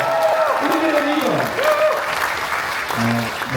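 An audience at a political talk concert applauds as a speaker is welcomed, with cheering and raised voices mixed into the clapping, then a brief pause before he begins to speak.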